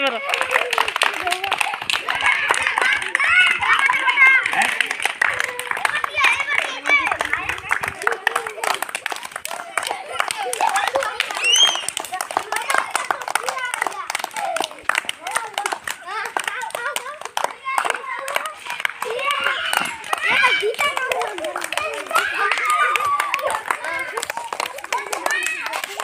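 Children clapping their hands during a school game, rhythmic claps running steadily throughout under a lively mix of kids' voices and chatter.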